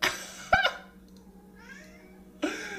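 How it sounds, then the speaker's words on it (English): A cat meows once in a short, fairly close, clear call, with a faint room hum around it and no talking. "Shut up, cat."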